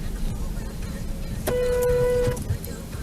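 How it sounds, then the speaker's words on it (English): A car horn blasts once for about a second on the Autobahn, loud over the steady road and engine noise heard from inside a moving car. "once again, getting honked at"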